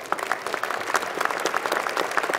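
A room full of people at an engineering school commencement ceremony applauding, a dense patter of many hands clapping together at a steady moderate level.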